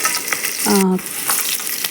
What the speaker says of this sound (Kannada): ಆಯಿಲಲ್ಲಿ ಫ್ರೈ ಮಾಡ್ತಾ ಹೋಗಬೇಕು